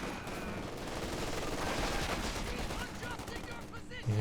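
Rapid .50 cal machine gun bursts in Company of Heroes 2 battle, mixed with other gunfire in a busy battlefield din, with a voice talking over it.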